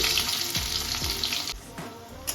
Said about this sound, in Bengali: এবারে এই তেলের মধ্যে আমি রসুন থেতো করে যে রেখেছি সেটাকে আমি দিলাম